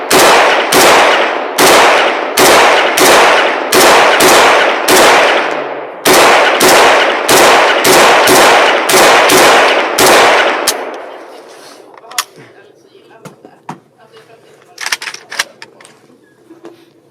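A TR-3 civilian AK-12 rifle fires a rapid series of loud, sharp single shots in steady rhythm, about fifteen in all, followed by quieter clinks and faint background sounds.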